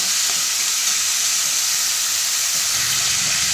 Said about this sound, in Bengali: প্রথমে সবজিগুলি ভেজে নিচ্ছি।